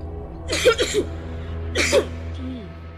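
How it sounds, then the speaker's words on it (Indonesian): A person coughs twice in quick succession, pauses, then gives one more cough, close and fairly loud over a low steady hum. "Batuk."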